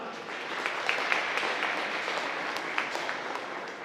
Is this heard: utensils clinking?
no